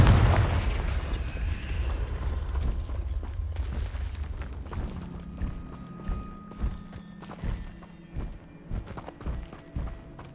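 A Confringo fire spell cast in Hogwarts Legacy detonates with a loud, deep explosive boom at the start, its rumble fading over several seconds before a string of lighter thuds and pops follows.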